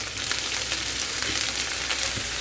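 Vegetables sizzling in a pan over fried onions and green chillies, a steady, moderate frying hiss with faint stirring clicks, no voices.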